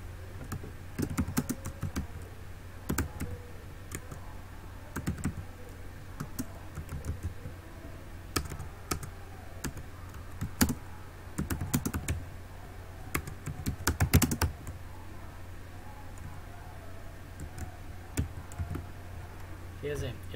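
Computer keyboard typing in bursts of quick, close clicks with pauses between, over a steady low hum, with a person speaking intermittently.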